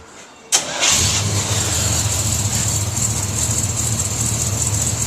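A 1983 Chevy truck with 2.5-inch big-body Magnaflow mufflers cranks and fires after half a second of quiet, then settles into a loud, steady, deep idle rumble nearby.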